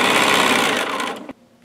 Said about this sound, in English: here's a comparison of my machine without the mat